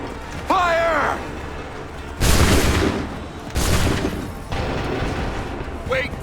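Two heavy musket volleys roar out in Assassin's Creed III Remastered during the battles of Lexington and Concord, each a sharp crackling blast that rolls and fades, after a shouted command and mechanical clicks, with more voices at the end.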